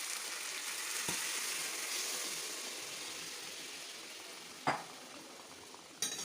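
Chicken frying in a pan with leftover marinade gravy poured in, giving a steady broadband sizzle throughout with a few sharp clinks of a utensil against the pan.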